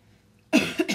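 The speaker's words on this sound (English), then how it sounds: "every time I cough" A single sharp, dry cough from a woman with a dry throat, loud and close after a near-silent moment, breaking into two or three quick bursts.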